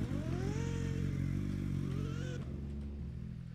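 Harley-Davidson motorcycle engine in the video game Driving Empire, a steady, loud throaty drone with the revs climbing and then settling into a lower idle-like rumble, with no talk over it.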